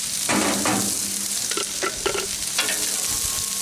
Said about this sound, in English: we'll put on onions, peppers, like I said, one sweet onion, one green pepper